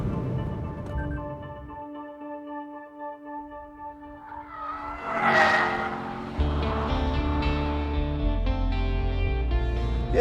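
Lexus RC F driven hard on a race track: engine drone at steady pitch, then a sharp tire squeal and rising revs as a deeper, louder engine roar takes over, close and continuous.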